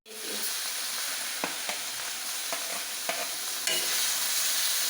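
Spices and cumin seeds frying in a pan, a steady bright sizzle from start to finish with a few soft clicks of stirring, close and fairly quiet.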